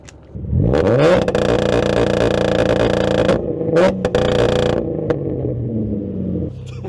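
An engine in a cheap drift car revs hard against a 3,500 RPM limiter, holding a loud buzzing drone that bounces off the cutoff before dropping and flaring again, close up.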